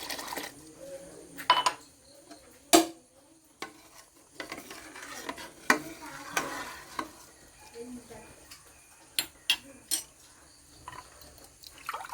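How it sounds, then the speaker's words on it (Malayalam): A spoon stirs parippu payasam in a pot, giving soft, irregular scrapes and clinks with a faint liquid slosh, close by and quiet. "ഇടയ്ക്ക് ഒന്ന് ഇളക്കി കൊടുക്കണം അല്ലെങ്കിൽ ഇത് അടിക്കൊടിക്കും"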